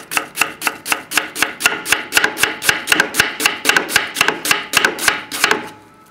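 A knife chops quickly and evenly through an onion on a cutting board, about twenty-five crisp close taps in a steady rhythm, then stops.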